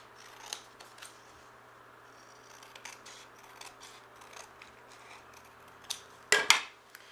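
Scissors snip through a paper stencil to cut it into a square, giving a short, close burst of crisp cutting near the end after a stretch of quiet rustling and handling.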